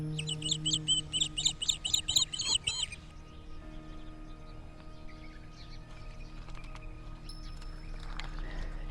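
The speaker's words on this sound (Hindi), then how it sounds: "हाँ, पीछे चिड़ियाँ चहकाती हुई," Birds chirp and trill in quick, lively bursts for the first few seconds, up close and clear, then fade into a quiet outdoor backdrop with soft distant sounds in a calm spot near Jaisalmer, away from city traffic.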